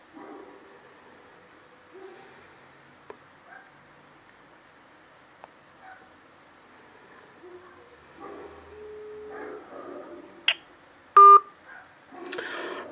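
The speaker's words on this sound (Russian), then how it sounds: "Трубку никто не берет" A telephone call goes unanswered: quiet ringback tones repeat over faint background, then a few sharp dial-tone beeps and a closing burst near the end.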